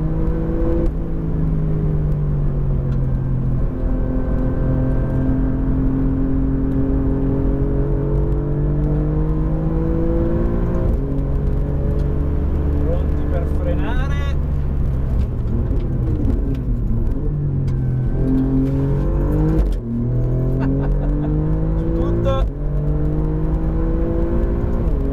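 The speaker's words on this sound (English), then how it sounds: "E adesso iniziamo il nostro giro lanciato con la GTM." An Alfa Romeo Giulia GTAm engine pulls hard through the gears on a flying lap, loud and close from the cabin, with rising revs, quick upshifts and brief lifts into braking.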